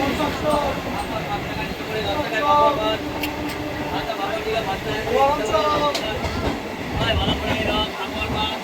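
A train bound for Digha rumbles past Uluberia station with rhythmic clatter and squealing wheels, loud and close, with people talking over the steady noise.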